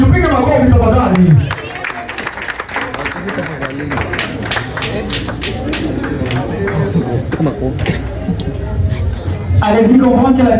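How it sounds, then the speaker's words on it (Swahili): Wedding guests at a celebration in Montreal applaud in a dense burst of clapping with some cheering, and a voice speaks at the start and end over the crowd noise. "Tupige makofi"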